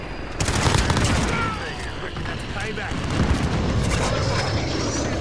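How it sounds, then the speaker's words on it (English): Gunfire in the video game Call of Duty: Modern Warfare, a dense fusillade of shots and booms from a firefight, loud and continuous, with explosive bursts swelling and fading across the battle. "We're taking some fire."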